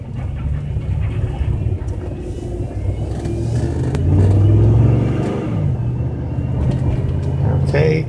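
A 2003 GMC Envoy with a 5.3 engine drives at light acceleration, giving a steady low engine and road rumble that swells midway, with a voice talking over it.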